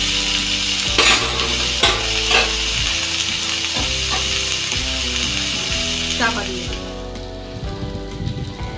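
Bhangan fish with taro, spinach, radish and peas is stirred in a frying pan with a little oil: repeated spatula scrapes and clinks over a constant sizzle.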